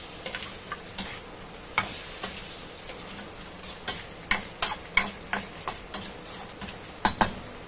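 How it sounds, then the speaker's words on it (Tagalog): Pork and tomato paste for caldereta are stirred in a pan, a spoon scraping and tapping in irregular clicks over a soft steady sizzle, close and moderately quiet with no voices. "Haluin lang po natin para po mag-combine na po yung tomato paste dito po sa karne."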